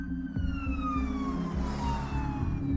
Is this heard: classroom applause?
no